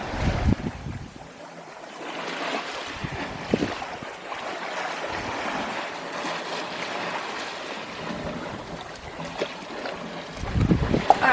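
A sailboat moves through open sea toward Thailand, with steady wind rushing over the microphone, water washing along the hull and occasional gusts and creaks, heard alone without talk.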